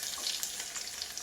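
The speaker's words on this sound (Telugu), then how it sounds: "ఆయిల్ కాగిపోయింది. కొంచెం మినపప్పు, కొన్ని ఆవాలు, కొంచెం జీలకర్ర, కొంచెం ఎల్లిమిరపకాయలు" Urad dal, mustard seeds, cumin and dried red chillies frying in hot oil for a Godavari-style bitter gourd pulusu tempering, a bright crackling sizzle with scattered small pops.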